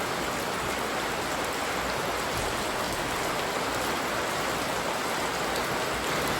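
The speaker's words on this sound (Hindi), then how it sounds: "और अभी स्कूल पहुंच नहीं पाए होंगे, और बारिश शुरू हो गई है।" Steady rain falling outdoors, a dense continuous hiss of drops on surfaces, loud and even throughout with no voices.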